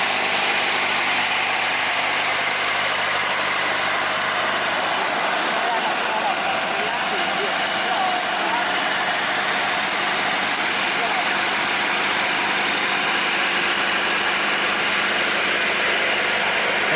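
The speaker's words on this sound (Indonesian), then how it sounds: "Terlihat roda lokomotifnya selip teman-teman, karena jalur di depan ini masih tertutup rumput ya." Sugar cane train locomotive at PG Kedawung, its engine running in a steady, loud rumbling drone as the wheels slip on a grass-covered track, with a voice talking over it throughout.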